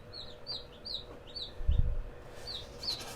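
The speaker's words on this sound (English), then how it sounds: "we are going to say hello to our baby chicks" Newly hatched baby chicks in an incubator give a run of thin, high cheeps, several short calls in quick succession over a low background hum.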